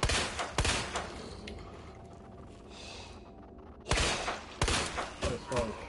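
Sharp pistol shots in the Resident Evil 2 (2019) remake: one early crack, a quiet pause, then a quick cluster of loud bangs near the end.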